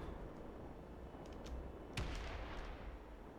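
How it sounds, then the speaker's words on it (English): Pirates fire on the player in Space Engineers: faint, muffled gunfire over a steady background hum, with one heavier thump partway through. "Oh, they're shooting at me."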